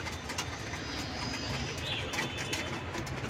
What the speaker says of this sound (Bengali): দুই প্যাদেনের কবুতর